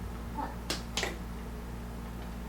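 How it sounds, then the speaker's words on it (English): Two sharp hand claps in quick succession, fairly quiet and set against a steady low background hum, with no talking. "Give me a louder clap."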